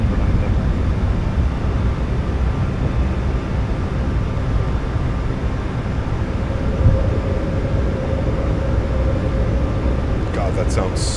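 Steady broadband roar of a Boeing 737 MAX 8's engines in a flight simulator after takeoff, a continuous, loud, unchanging drone throughout.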